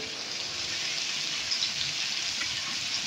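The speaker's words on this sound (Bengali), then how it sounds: "ভালো করে এগুলোকে আমি নেড়ে চেড়ে নেব। আঁচটাকে কমিয়ে দিয়ে আস্তে আস্তে করে আমি ভেজে নেব" Cumin and red chilli powder frying in oil for green pea ghugni, a constant dense hiss of sizzling that stays even and close throughout, with no talking.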